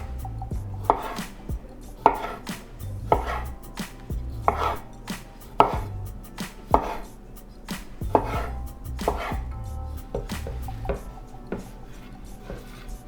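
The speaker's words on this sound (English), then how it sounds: "And I'm just gonna cut these in half." A knife slices tomatoes in half on a cutting board: a steady series of crisp, close chops and taps, roughly one per second, with low background music running underneath and no voices.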